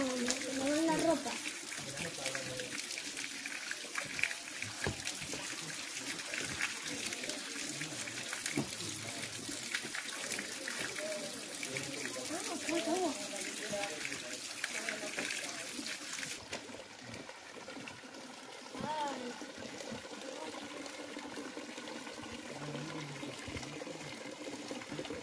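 Water runs steadily at a village fountain beside an old washhouse, a continuous splashing trickle heard close, with people talking over it.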